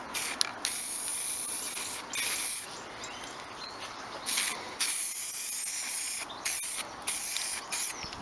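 Short bursts of aerosol spray paint hiss onto the edges of a Stratocaster guitar body in light coats, close and crisp, in about eight irregular spurts separated by brief pauses.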